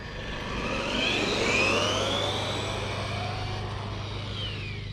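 A brushed RC car with big tyres runs outdoors, its small electric motor whining with rising and falling pitch sweeps over a steady low hum, fairly close and continuous throughout.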